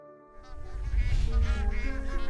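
A flock of migrating geese honks repeatedly in flight, layered calls building from near silence into a loud, continuous chorus over a low rushing background.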